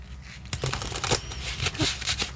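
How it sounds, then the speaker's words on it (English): A deck of tarot cards is shuffled in several quick, papery bursts of riffling, close and fairly quiet, with no talk. "One more shuffle, they tell."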